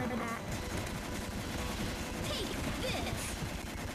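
Dense, rapid gunfire from the video game Gotcha Force crackles continuously from start to finish, with small bursts layered over a busy, steady clatter of game sound effects.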